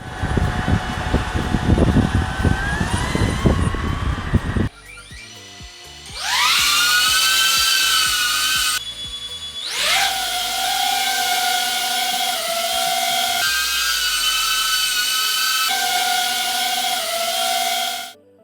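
A DJI Avata 2 FPV drone's high-pitched propeller whine rises and falls as it throttles up, sustained loud buzzing with shifting pitch and brief dips.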